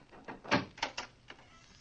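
A door in a guarded cell is opened, giving a few quick wooden knocks and clunks of the latch and hinges, close and moderately loud, then settling.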